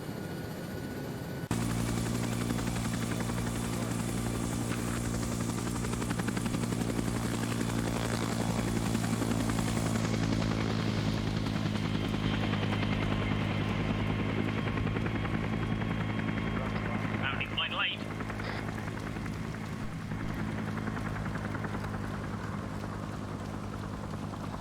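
A helicopter in the Vietnam War game SOG thrums loudly and steadily with a rhythmic rotor chop, its pitch shifting partway through, with brief sharp noises near the end.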